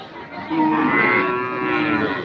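A single long, loud moo from a cow close by at a cattle market, sustained and rising in pitch, with no talking.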